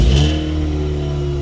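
A Ford Puma race car engine catches and runs, a loud low steady drone with a strong rumble and a brief louder burst at the start, with no talk.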